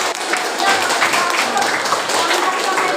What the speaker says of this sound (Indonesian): Selamat tepuk tangan untuk kalian semuanya.